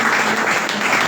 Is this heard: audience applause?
yes